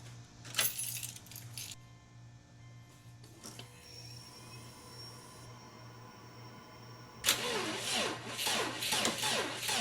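Metal keys jangle in bursts while someone hunts for the car keys near a Raptor with a supercharger belt job under way. One early clatter and a louder, longer rattle at the end sound over a steady low hum.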